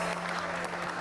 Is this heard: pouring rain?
no